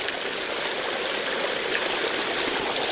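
Steady rushing stream water, a dense continuous wash of flowing noise close by, with no voices.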